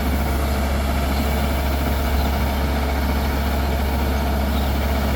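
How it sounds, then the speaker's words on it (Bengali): A paddy threshing machine runs at a steady, loud, heavy engine drone while threshed rice pours out of it, continuous and close with no voices. "আরেকদিকে এই যে মেশিনে থেকে ধানগুলি মাড়াই হয়ে বের হয়ে যাচ্ছে"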